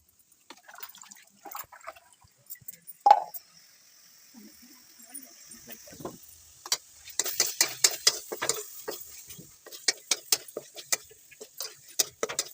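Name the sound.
vada frying in hot oil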